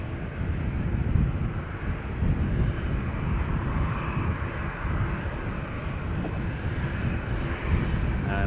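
A Ryanair airliner arriving on Dublin Airport's north runway roars past in a broad, steady rumble of jet engines that stays loud throughout, with some wind on the microphone.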